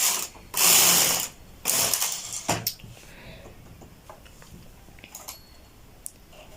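A knitting machine with a lace carriage pushed across the bed to knit a row, giving a loud rushing, ratcheting clatter in two long sweeps, then quieter clicks and mechanical taps as the carriage settles, close up with no speech.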